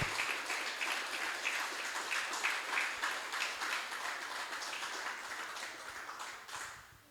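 A church congregation applauds for several seconds in a dense, steady wash of clapping that fades out at the end, heard from a moderate distance.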